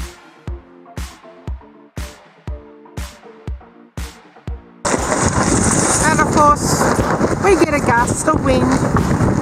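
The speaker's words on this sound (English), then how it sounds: "The wind while trying to put it up." Strong wind roars and buffets the microphone continuously on a sailboat while its headsail is being raised, preceded by a run of regular knocking thumps, with no talk heard.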